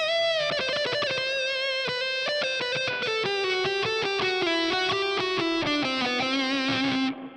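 Thick, sustained electric guitar lead played through an Orange Rockerverb amp model on a Boss GT-1000 patch, with distorted notes ringing out one after another, some held long, and a final note cut off abruptly near the end.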